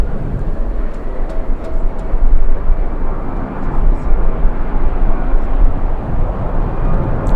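A charter airliner takes off from LAX bound for Phoenix on a strongly windy day, its engines a loud, continuous broadband roar close by, rumbling steadily throughout with wind noise mixed in.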